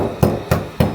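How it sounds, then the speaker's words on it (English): A round-headed hammer whacks a quartzite countertop three times in an even rhythm, each blow a loud, close, heavy thud with a hard stone knock. "we like whacking holes with people's countertops, so we're just gonna do it"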